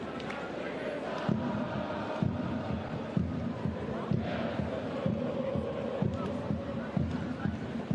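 Home supporters at a Frauen-Bundesliga women's football match keep up a constant crowd roar, with a rhythmic low drumbeat pounding beneath the steady chanting throughout.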